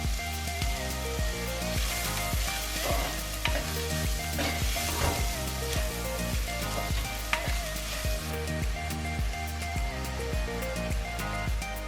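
Onions sautéing in a pan for kaanthari chicken, a steady, dense sizzle of frying with occasional stirring scrapes, continuous and close throughout, with no talking.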